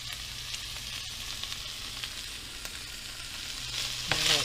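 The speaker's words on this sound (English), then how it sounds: "Sizzle going on here" Corned beef hash and onions sizzle steadily in a pan with a soft, constant frying hiss, close and quiet, and a brief clink near the end.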